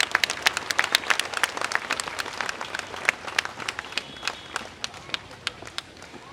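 Outdoor crowd applause at an Independence Day parade of young rovers on a maidan, dense steady clapping with many sharp individual claps standing out, close and lively throughout, with some talk underneath.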